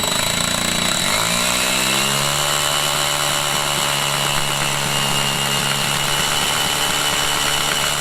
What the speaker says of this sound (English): I'm using 10mm rod, I'm using a 13mm masonry bit. I'm going to go really gently